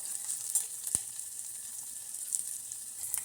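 Something frying in a pan toward golden brown while a tomato gojju is being made, a faint, steady sizzle with one sharp utensil tap, heard close and with no talking.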